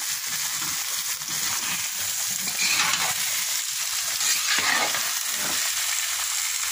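Vegetables dumped into a large pot of hot oil over a big clay oven, frying with a loud continuous sizzle and the scrape of stirring, heard close and alone.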